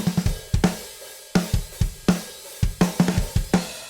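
Dry, tightly miked drum hits with sharp attacks and very short decays, a sparse groove of kick and snare with no room ambience.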